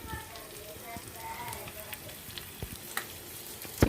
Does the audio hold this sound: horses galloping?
no